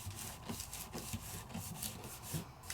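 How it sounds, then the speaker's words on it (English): Burnishing strokes rubbing across a closed die-cutting plate on Sizzix Opulent paper, a series of soft, uneven scraping rubs at close range with no talk. "I'm going to close this up and I'm going to give a burnish"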